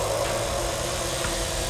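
A chainsaw in The Texas Chainsaw Massacre video game holds a steady, rumbling engine drone, close and even throughout, with no voices over it.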